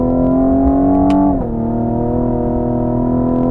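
A 2022 Cadillac CT5-V pulls hard under acceleration, its loud, steady engine note dipping sharply as it snaps through an upshift, then droning on at lower revs close up.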